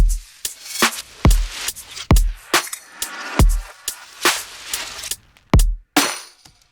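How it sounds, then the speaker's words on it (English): A punchy electronic drum loop plays alone in an Ableton track, with deep kicks and crisp snare hits in a steady rhythmic pattern, loud and dry. "let me just solo up my drums for a second."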